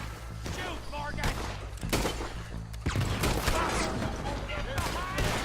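Gunfire in Red Dead Redemption 2 as Arthur Morgan's gang trades shots, with bursts of rapid shots and heavy thuds mixed among shouted voices and game music, loud and close.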